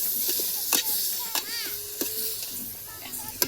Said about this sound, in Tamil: இதை போட்டு நல்லா வதக்கி வதக்கிக்கலாம்